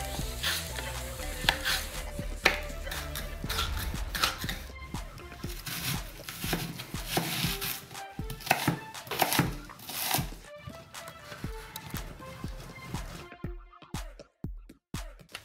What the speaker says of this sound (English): Of a green capsicum and a red capsicum, and we're just going to start dicing it up, or slicing it up.